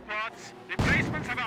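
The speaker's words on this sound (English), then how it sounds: "Mortar firing away, maybe over here." Mortar barrage firing in the World War II strategy game Company of Heroes, with a sharp loud launch thump and dense rumbling blast tail after a quieter stretch of game sounds and speech.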